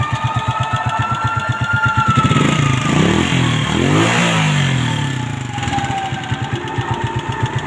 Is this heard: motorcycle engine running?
yes